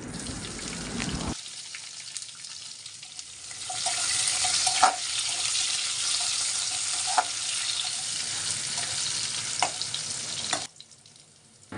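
Whole cumin, bay leaves, cardamom and peppercorns fry in hot oil with a steady, close sizzle that swells after a few seconds, with occasional stirring clicks, then cuts off abruptly near the end.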